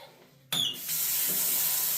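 Water from a tap gushes steadily into a gold pan being rinsed with a bit of dish soap after oven seasoning, a near, continuous splashing rush that starts abruptly and runs alone without talk.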